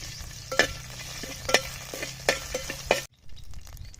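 Thinly sliced green chillies fry with spices and mint in hot oil, a steady sizzle broken by several sharp stirring scrapes, then a sudden drop to near quiet near the end.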